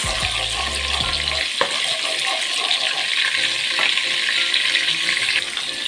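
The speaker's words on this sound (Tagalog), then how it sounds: "nilagay ko na yung aking bawang dyan guys." Garlic frying in a pan for a Filipino chicken-and-chicken-liver dish, a steady close sizzle with stirring scrapes and a low thump near the start, continuous throughout.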